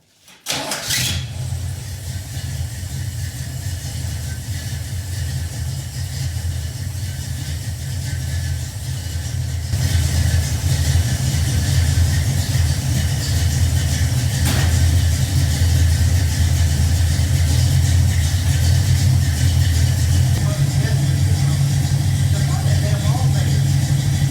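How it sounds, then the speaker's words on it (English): A car engine fires up with a sharp catch, then settles into a loud, steady mid-pitched run that grows slightly fuller partway through, continuing unbroken for over twenty seconds. "Let's fire it up, let it run for a little while, see what we think."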